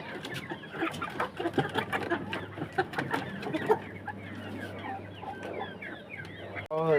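Several chickens cluck and murmur nearby in short, irregular bursts as they are fed grass, with a low steady hum underneath and a sharper squawk near the end.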